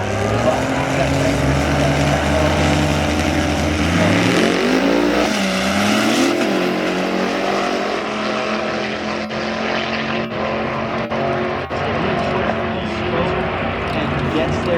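A Dodge Cummins 2500 diesel truck races down the drag strip at a raceway with a loud rising engine roar and a pitch sweep as it shifts and passes. The roar fades into crowd noise while an announcer talks over it.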